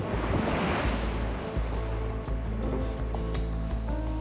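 Large 6 to 8 foot surf breaks at Bondi Beach in a loud, continuous roar of crashing water and wash, with no voices over it.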